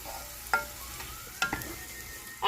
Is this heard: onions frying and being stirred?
yes